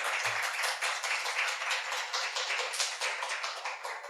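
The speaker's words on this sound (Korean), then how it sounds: "우리 선교사님 나오실 때 큰 박수로 환영하겠습니다" A church congregation claps in a steady, dense round of applause, welcoming a missionary to the front; the clapping is sustained and even throughout, with no talk over it.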